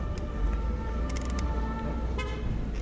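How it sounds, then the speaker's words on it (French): Car horn honking in Paris street traffic, a sustained toot with a second shorter blast near the end over steady engine and road noise, fairly close and loud. "Il klaxonne une première fois."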